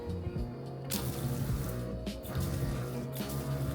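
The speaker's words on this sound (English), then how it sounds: "You can hear the pump running there, hopefully, and then it switches off when you let go." An electric water pump in a camping drawer in the boot of a Land Rover Discovery 3 starts up with a hiss of spraying water about a second in, then runs steadily with a faint whirring hum.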